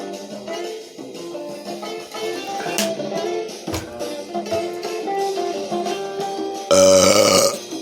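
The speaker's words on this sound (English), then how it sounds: "I would burp in her face like that." A man burps, a long, loud, gravelly belch near the end, following a stretch of low voiced grunting.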